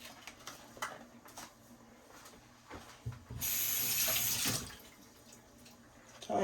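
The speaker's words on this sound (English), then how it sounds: "gonna get our thyme washed up" Fresh thyme rinsed under a running kitchen tap, a steady hiss of flowing water that swells for about a second in the middle, with faint clatter and handling sounds before and after.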